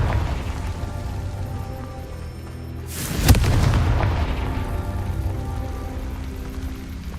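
A Confringo spell fires in the Hogwarts Legacy video game, bursting into one loud, sudden explosion midway with a rumbling tail over steady background game ambience.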